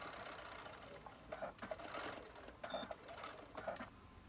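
A sewing machine stitches fabric diagonally, for a mini ironing board made from a recycled box. It runs in short, quiet whirring bursts with small clicks between them, close by.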